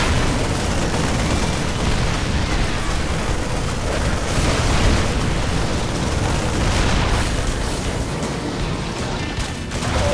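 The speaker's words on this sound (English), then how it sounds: "Oh, the siege tank just cleaning up." Terran siege tanks fire and explosions erupt in a StarCraft 2 battle against Zerg units, a dense, continuous roar of booms and blasts layered over one another at steady loudness for the whole stretch.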